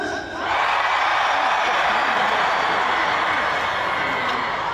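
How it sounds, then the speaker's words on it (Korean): A concert audience at a Korean farmers' national convention lets out a loud, sustained roar of cheering and shouting that fills the hall and holds steady for several seconds. "저를 중심으로 이쪽에 계신 분들 함성 한번 들어보겠습니다"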